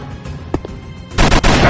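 Two small thuds, then a loud, dense burst of gunfire and blast noise near the end, from a mobile first-person shooter game.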